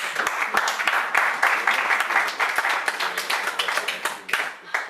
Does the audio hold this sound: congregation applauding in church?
yes